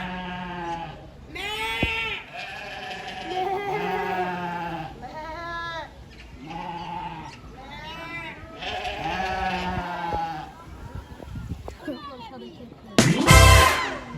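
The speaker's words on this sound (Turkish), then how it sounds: "koyunlar meyliyor" Sheep bleat loudly and close by, in a run of wavering calls that overlap and repeat, ending in a sudden loud thump.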